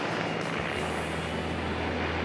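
A Care Flight rescue helicopter over Bondi Beach, a loud, dense rotor and engine roar that stays steady and close throughout.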